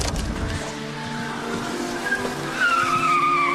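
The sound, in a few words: car driving away from a house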